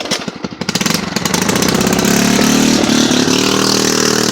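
A Pluton scooter engine starts with rapid sputtering pulses, then builds into a loud, steady revving drone that stays strong to the end, close to the listener in a forest.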